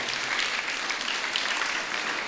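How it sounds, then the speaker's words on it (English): Sustained applause from an audience at a motivational talk, a continuous wash of clapping at an even volume with no talking over it. "we should give a big round of applause to both the people"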